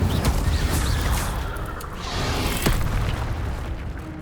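An Incendio fire spell cast in the video game Hogwarts Legacy, a loud rumbling whoosh and boom of flame with a sharper burst partway through, dense and continuous for a few seconds.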